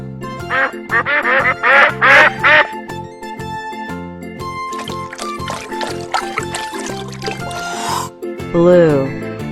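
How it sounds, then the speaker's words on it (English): A cartoon duck quacks in a quick series of bright, nasal calls over a bouncy children's music backing, followed by other animal-like sounds and sweeping effects. "Duck."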